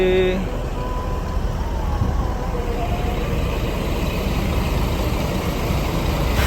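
A Harapan Indah bus engine idles at a terminal before departure, a steady low rumble that holds throughout at close range with faint background noise.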